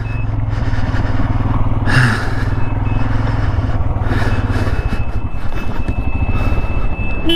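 A motorcycle engine idles and rumbles close by on a Ladakh road trip as the bike is parked beside a river, with steady mechanical noise and no talking.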